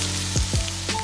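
Garlic and cheongyang chili peppers sizzle steadily in leftover pork belly fat in a pan, with a few brief clanks of a utensil stirring, close and moderately loud with no voices.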